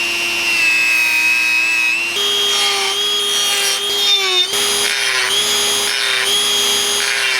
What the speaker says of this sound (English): I think my Dremel's dying. Ugh. The brushes are going out.